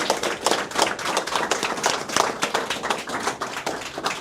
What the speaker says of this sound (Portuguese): forte aplauso para SB que está percorrendo